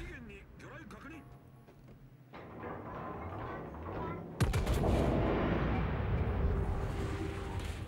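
Naval artillery shells land close by in the World of Warships video game, sending a loud, sudden blast midway into a dense, rumbling roar of gunfire over a battle-game background, with a voice audible.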